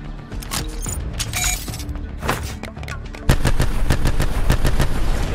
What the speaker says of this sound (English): The more you cook the grenade, the more times it goes bang.